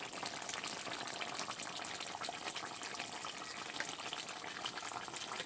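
Cumin paste sizzling in a pan with chicken pieces, a steady, dense crackling fry that holds close and even throughout with no voices.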